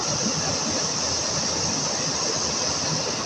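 Small waterfall in Konkan, a steady broadband rush of falling water, even and continuous with no voices.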